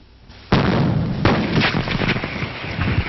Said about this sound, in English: When a piston is put into these cylinders, fueled again with gunpowder and a mixture of gasoline and air